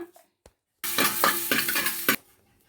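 Coriander seeds, fenugreek, mustard seeds and cumin roasting in a pan, a sudden dense sizzle and crackle with stirring and a spoon scraping the metal, lasting just over a second before cutting back to quiet.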